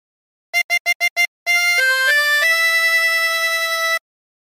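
A harmonica plays a phrase from a song: five short, evenly spaced detached notes, then a run of longer sustained tones stepping down and up, clear and close with no talk.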